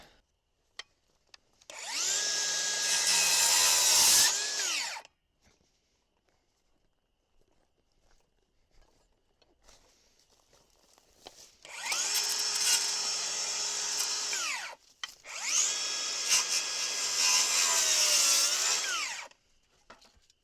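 A power tool trims wooden overhangs off a portable building under construction, with three loud whining bursts of several seconds each and quiet pauses between them.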